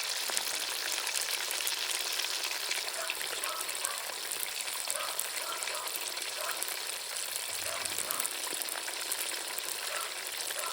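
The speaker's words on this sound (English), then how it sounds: "We're frying fish." Fish fries for escovich outdoors, a steady, close hissing sizzle of hot oil with crackling spits that runs unbroken the whole way, with no talk over it.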